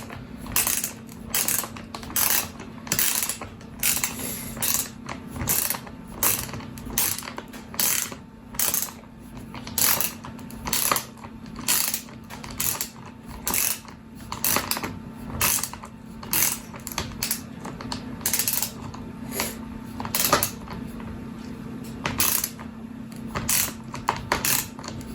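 Wrench tightening a nut on a threaded rod during battery assembly: close, rhythmic ratcheting clicks in repeated short bursts with brief pauses, steady and fairly loud throughout.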